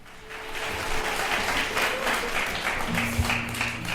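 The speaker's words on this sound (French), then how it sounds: "puisque vous applaudissez n'importe quoi" A live audience at a 1978 comedy show applauds in a steady, dense wash of clapping, swelling in at the start and holding at moderate loudness throughout.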